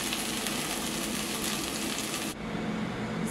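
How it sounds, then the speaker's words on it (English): Spicy okra (lady's finger) frying in a pan over a low flame gives a steady, dense sizzle that holds evenly throughout, softening slightly near the end, with no talking. "Now keep the flame in sim mode and fry it."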